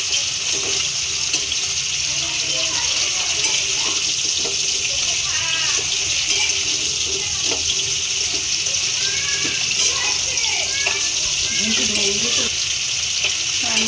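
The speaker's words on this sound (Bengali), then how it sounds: "কচুরলতিটা দেওয়ার পর ভালো করে নাড়াচাড়া করতে হবে, যাতে ভালো করে সবগুলো একসাথে মিশে যায়।" Taro stolons fry in a pan while being stirred, a steady sizzle with scraping and clattering utensil strokes throughout, and faint voices in the background.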